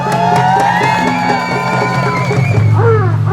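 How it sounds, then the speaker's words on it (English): A crowd at an Al Quds rally in Toronto cheers, whoops and shouts loudly and continuously as a rabbi is welcomed to the stage, a dense roar of many voices. "Please join me in welcoming our dear Rabbi to the stage with a warm round of applause"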